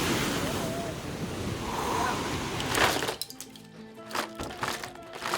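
Ocean waves crash and wash against coastal rocks on a remote Peruvian shore near Huarmey, a loud continuous roar of surf with wind noise that gives way to sharper, broken splashes and cracks near the end.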